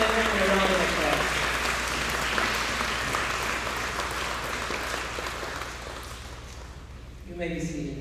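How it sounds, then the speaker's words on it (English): An audience at a graduation ceremony applauds for graduates, dense steady clapping filling the room for about seven seconds before fading as a voice begins speaking. "Please give these young men and women a round of applause."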